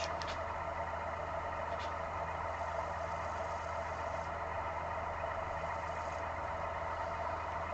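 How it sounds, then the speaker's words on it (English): A wood lathe turning a platter with a scorched, smoky rim, its motor giving a steady, unbroken drone throughout, with a few faint clicks at the start and no voices. "Turn the lathe off."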